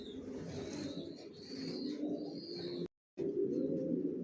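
Racer pigeons cooing in a steady low murmur with faint higher calls, broken by a brief silent gap before the cooing resumes.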